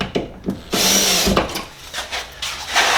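A power drill drives screws into a sheetrock wall to fasten a Navien controller mounting plate, with short whirring bursts broken by pauses across a few seconds, close and fairly loud.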